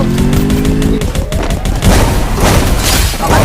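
Explosion in a team shooter game during a tournament match, a loud burst followed by a dense rumble and scattered gunfire. Players talk excitedly over it.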